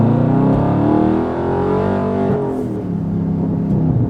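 A 2020 Dodge Charger Scat Pack widebody accelerating hard, a loud, close engine roar rising in pitch through the revs, then easing off as the throttle lifts.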